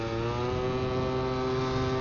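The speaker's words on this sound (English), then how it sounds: "when you open the throttle on this two-stroke, it just goes, hey" A Yamaha BWS two-stroke scooter engine runs with open throttle on a coastal mountain climb, holding a steady, buzzing high-revving drone for a couple of seconds, loud and unbroken with no voices.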